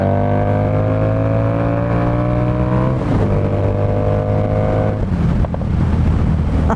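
A 2018 Harley-Davidson Street Rod 750 motorcycle ridden hard, its engine droning loudly with rising pitch as it accelerates, dropping briefly at two gear shifts, with wind rush throughout.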